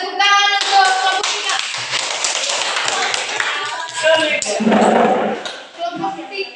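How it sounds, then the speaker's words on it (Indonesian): A class applauds a student group, a burst of bright hand clapping mixed with children's voices and a teacher talking over it. "tepuk tangan untuk kelompok"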